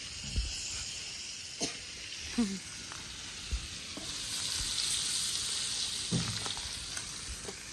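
Fish frying in a pan with a steady bright sizzle and hiss, punctuated by occasional soft thumps and clatters from the cooking.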